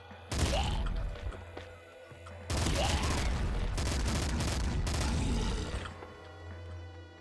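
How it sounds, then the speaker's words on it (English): Bursts of rapid machine-gun fire from the video game Nuclear Throne, two long dense volleys close and loud, with a brief lull and a short isolated shot before them. "Machine gun."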